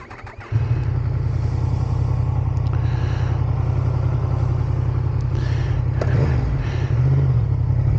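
A Yamaha MT10 motorcycle is ridden, its engine droning loud and steady close by, with a few shifts in tone and a brief surge near the end.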